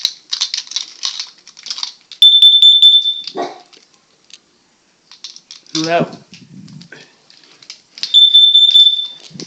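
A home smoke alarm sounds during a test, two loud sustained piercing beeps about two seconds each, with a dog barking and rattling noises around them and a person briefly speaking between.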